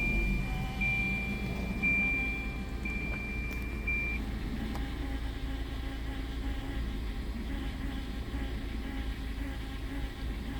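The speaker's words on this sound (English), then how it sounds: "Recently, this pump became noisy and the car was losing power under acceleration." A noisy, failing fuel pump in a car that loses power under acceleration drones steadily with a low rumble and a thin high whine, continuous and unchanging, with no talking.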